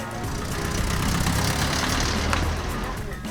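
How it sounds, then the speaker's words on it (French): Engines rumble steadily nearby on a city street, a low continuous drone of road traffic with a faint passing swell. "Route, trottoir, au bruit des moteurs."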